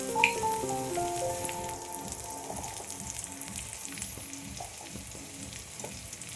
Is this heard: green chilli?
yes